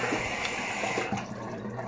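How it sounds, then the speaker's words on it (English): A tap runs in a steady rushing stream while hands are rinsed beneath it, loud and close. The flow shifts slightly and softens toward the end. "let me rinse my hands"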